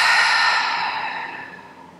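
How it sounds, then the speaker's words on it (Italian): A deep breath drawn in through the nose and released through the mouth during a morning yoga practice, one long, close exhale that fades gradually. "Inspiri dal naso ed espiri dalla bocca."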